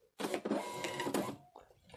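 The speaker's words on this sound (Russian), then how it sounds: "Теперь попробуем пробную печать." An Xprinter XP-365B thermal label printer printing a test on a 58 by 60 label, a close mechanical whirring buzz lasting over a second, then a short click and feed sound.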